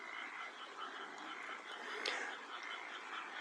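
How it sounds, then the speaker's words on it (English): A dense chorus of frogs croaks steadily around rice paddies in the mountains of western Japan, a continuous buzzing trill at moderate distance with one brief sharper call near the middle. "Frogs are now voicing."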